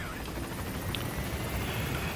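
Helicopter rotor noise from the video game Metal Gear Solid V, a steady, dense, continuous whir holding at even loudness throughout without any break.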